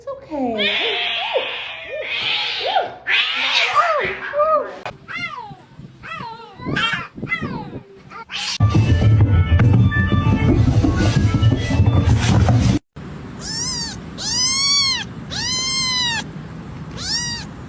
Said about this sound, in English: I was petting my neighbor's cat when suddenly